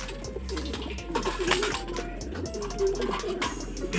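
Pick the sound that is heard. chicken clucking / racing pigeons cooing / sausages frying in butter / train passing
racing pigeons cooing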